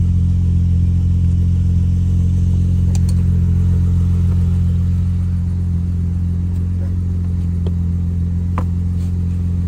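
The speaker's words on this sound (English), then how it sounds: "Push the gas pedal, buddy." A car engine revs as the gas pedal is pressed on a modified car, a steady loud low drone held throughout with little rise and fall, while voices talk over it.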